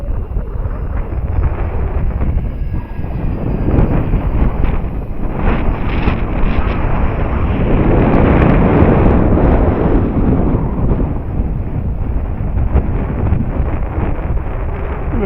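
Strong wind buffets the microphone in a loud, continuous roar with gusty swells during a flight of a Dynam Waco RC plane, and the model itself is not clearly picked out.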